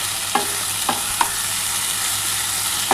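Potato and cauliflower curry masala frying in a pan, a continuous sizzle with several sharp spoon knocks and scrapes against the pan as it is stirred, no talking.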